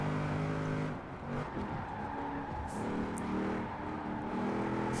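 An A-class car driving hard in the video game Forza Horizon 4 on a damp road, its engine droning and shifting pitch steadily with revs throughout, loud and continuous.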